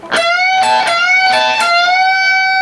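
Clean electric guitar notes from a guitar solo, picked several times and bent up, then held ringing with a steady tone that slowly fades; close and fairly loud, no talking.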